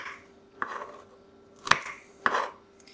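Three crisp knife strokes cut through an omelet on a board, spaced irregularly and close up, each a short sharp tap with a brief scrape, alone in a quiet room.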